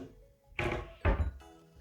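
Two soft thunks of a push-to-open upper kitchen cabinet door pressed shut and popping open, a short pause between them, close by and fairly quiet.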